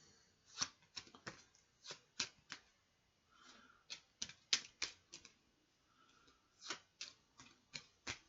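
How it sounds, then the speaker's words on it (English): Repeated crisp riffle-shuffles of a deck of playing cards during a tabletop card game, a quick series of sharp flutters spaced irregularly, close and fairly quiet, with no talking. "now I'm just gonna do a shuffle here"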